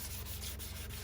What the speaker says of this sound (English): I go up to 2000 with sandpaper, wet sanding.